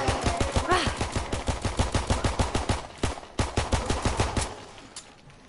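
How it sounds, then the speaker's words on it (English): A rapid string of about twenty close, punchy pistol shots in Call of Duty: WWII Zombies, fired in a steady rhythm with a brief pause before a final burst, then the gunfire stops. "Taking him down with a pistol"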